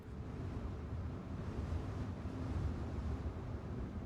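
Steady wind blowing in the video game Divinity: Original Sin, a soft continuous rushing hiss with a low rumble, moderately quiet and unbroken, with no talking over it.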